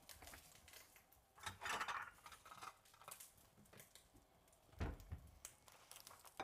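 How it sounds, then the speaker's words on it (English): Ceramic plates clink and rattle as one is lifted from a stack of dishes in a home kitchen, a few faint scattered knocks and scrapes with one louder clunk partway through. "I'm going to grab a plate"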